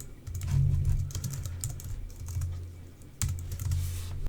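A computer keyboard clatters with steady, close typing as a command is entered, with a brief pause in the middle and no talk.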